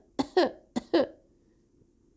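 Two pairs of short, dry coughs from an old man pretending to cough, each pair a quick double burst, close and clear with a brief pause between them and no talk.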